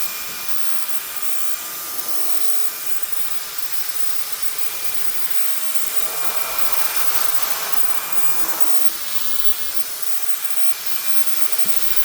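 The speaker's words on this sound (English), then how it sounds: "powerful air blasting action to tackle stubborn dust" A steady, powerful rush of blown air from a ZoomYao Max 2-in-1 electric air blaster hisses continuously, swelling slightly midway, with no voices.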